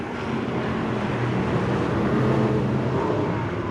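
Factory stock and pure stock race cars at Whynot Motorsports Park roaring through a corner, a dense, loud, continuous engine blare with no distinct gaps.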